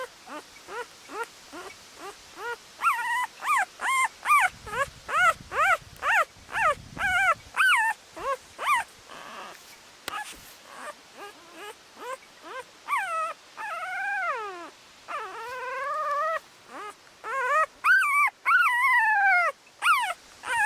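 Alapaha and American Bulldog cross puppies whimpering and yipping in a long run of high, wavering cries, several pups overlapping close by with short pauses between bursts.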